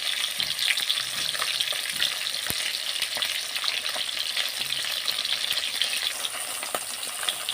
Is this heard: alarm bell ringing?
no